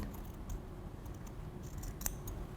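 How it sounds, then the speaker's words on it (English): Fabric shears snip into skirt fabric draped on a dress form, cutting in toward a pin; a few soft, close blade closures over a quiet room. "Then with your shears, cut in"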